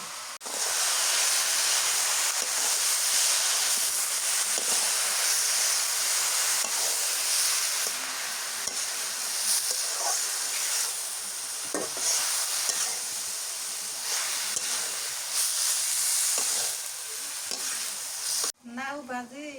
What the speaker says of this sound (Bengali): ধনিয়ার পাতা দিয়ে পাঁচফোড়ন দিয়ে নাও ভাজতেছি।